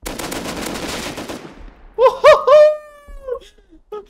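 Bursts of rapid gunfire from Rust rattle densely for about a second and a half, then fade out, and a few loud sharp tonal cries follow in the quieter remainder.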